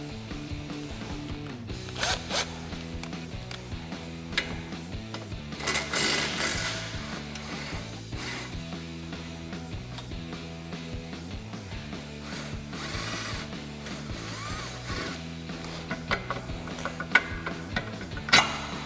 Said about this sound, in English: So I'm going to take my 15 millimeter on my 3/8 gun and remove my shock bolt.